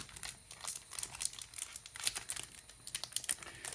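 A 2022 Bowman Platinum trading card pack is torn and crinkled open, with a steady run of close, crisp foil crumpling and short tearing bursts.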